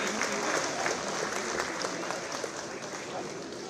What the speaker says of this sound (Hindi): तालियां आपके लिए भी बजनी चाहिए।